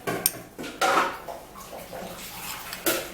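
Clinks, scrapes and wet dabbing sounds as aboniki balm is mixed with ginger in a small dish, with irregular taps close by.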